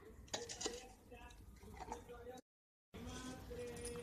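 Mango pickle pieces being tossed with chili powder in a dish, spoon scraping and clinking against the bowl in quick irregular strokes, close and moderately loud, broken by a brief dropout midway.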